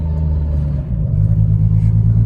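Loud, close exhaust drone of a 600+ bhp Nissan R32 GTR with straight-cut gears, a steady deep rumble that swells slightly after a brief dip, with no talking over it.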